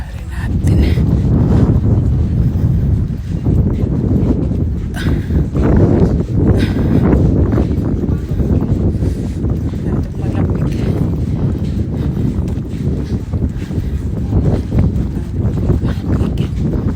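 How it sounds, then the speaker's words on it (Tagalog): Strong wind buffets the microphone outdoors beside a mini golf green, making a steady, loud rumbling roar with gusty swells throughout. "Hangin"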